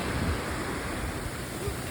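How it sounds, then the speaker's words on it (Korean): Strong ocean waves on a Bali beach, a dense continuous roar of surf with wind noise, loud and close throughout. "파도 엄청 쌤"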